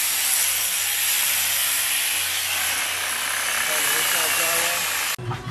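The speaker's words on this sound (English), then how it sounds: "Gonna be cutting this line. I have my sawzall." A Sawzall reciprocating saw cuts a line while a sliding glass door is replaced to Miami-Dade code, a loud continuous buzzing roar that runs nearly the whole time, then cuts off abruptly near the end.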